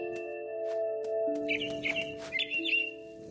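Chirping of a mama bird in the What Remains of Edith Finch video game: a few short, bright chirps over a steady tonal music-like drone, fairly quiet and close.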